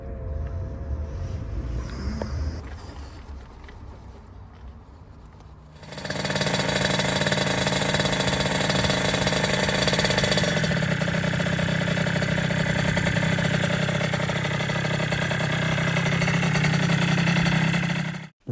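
A rebuilt 20 hp Suzuki PV50 two-stroke engine starts after a quieter stretch and runs steadily, a loud, close, buzzing idle with a rapid even rhythm that holds for over ten seconds before cutting off.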